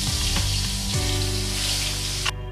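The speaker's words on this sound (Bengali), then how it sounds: "এবার আমি ওই তেলেই বাকি মাছগুলো ভেজে নেব।" Koi fish sizzle in hot cooking oil, a loud continuous bubbling crackle close by, with a couple of sharp spits and pops partway through before the sound cuts off abruptly near the end.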